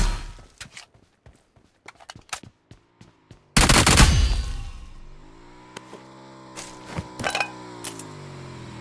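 PUBG Mobile gameplay gunfire: a scatter of sharp shots and clicks, then a loud burst of fire followed by fading ringing tones and a few more scattered cracks, with no talk.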